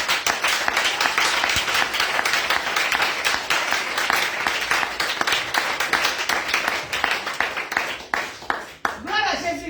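Church congregation applauding, a dense, sustained burst of clapping from many hands that fades toward the end.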